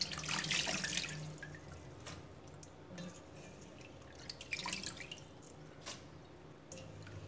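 Soaked ingredients for vegetarian fish cakes are rinsed by hand in water, with sloshing, dripping and squishing under a running tap, fairly quiet and close, with a few brighter splashes.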